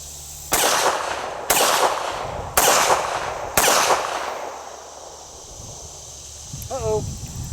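A restored Colt 1911 pistol fires four loud, sharp shots outdoors at a range, evenly spaced about a second apart, each with a ringing tail, followed by quiet and a short rustle.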